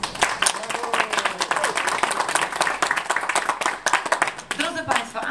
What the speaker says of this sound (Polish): Prosimy o brawa.